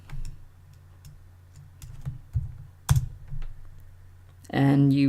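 A computer keyboard clacks as someone types a short web address into a browser, a few quick irregular key presses close by, ending in a louder burst of sound.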